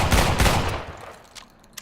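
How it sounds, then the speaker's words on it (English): A shotgun firing in the video game Islands of Nyne, a quick pair of loud, close blasts that fade into a short tail, followed by a faint click. "Just pulling down, it's a shotgun."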